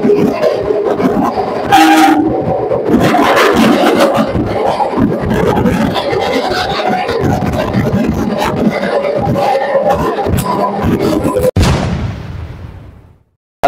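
A local train rumbles and clatters through Sealdah station, steady and loud, with a short horn blast near the start before the noise fades away.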